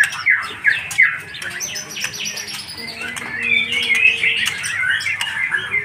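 Songbirds, including a male split silver offered for sale, chirp and squawk at close range in bright, overlapping bursts that build into busier, continuous calling, with no one speaking.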